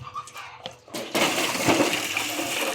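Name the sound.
water poured out from a bucket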